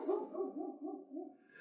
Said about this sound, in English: goes after the neighbor dog